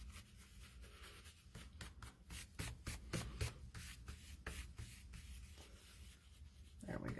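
Fingers rub excess glue off a folded paper greeting card, a close, soft scuffing run of quick strokes with brief pauses, ending in a louder rustle.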